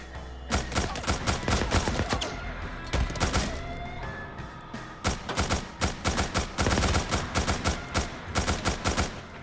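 Gunshots ring out in Days Gone survival mode, sharp close cracks fired in quick bursts and single shots with short pauses between, loud and alone.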